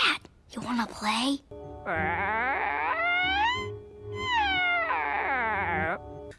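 A cat in an internet video gives two long, drawn-out meows that rise and fall, loud and close. A short bit of voice comes just before them.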